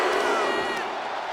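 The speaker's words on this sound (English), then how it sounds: "She is feeding off this crowd right now." A dense roaring arena crowd cheers at a WWE 2K25 wrestling match, a steady wall of shouts and whoops filling the whole short moment, loud and close.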